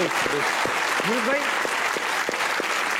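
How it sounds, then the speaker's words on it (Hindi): Studio audience applause during a Hindi-language comedy talk show honoring a late Pakistan cricket coach, a dense steady clapping wash with someone talking over it throughout. "बॉब वुलमर के लिए एक बार तालियां होनी चाहिए"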